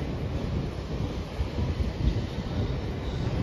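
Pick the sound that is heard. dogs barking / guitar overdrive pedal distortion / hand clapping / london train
london train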